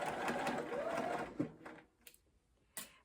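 A sewing machine stitches a curve in fabric, a steady rapid whirring run that slows and stops, followed by a few soft clicks and taps.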